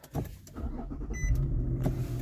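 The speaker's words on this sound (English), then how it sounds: "You can hear the V6 engine." A 2012 Infiniti FX35 with a V6 engine cranks and starts, a brief starter whir giving way to a steady low engine rumble close by, with no talking.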